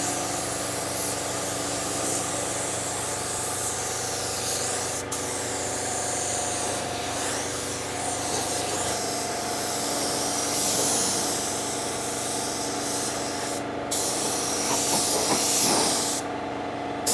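Spray gun hissing steadily as clear coat is sprayed onto aftermarket and used car parts, a continuous close airy spray with short breaks in the flow.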